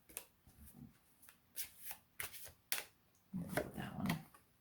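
Angel oracle cards are shuffled and drawn from a deck in a series of close, soft riffling swishes and sharp flicks, faint and broken by short pauses.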